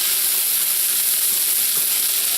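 Broccoli and carrot mixture sauteing in a pan, a steady close sizzle of frying with a faint hiss throughout and no talking.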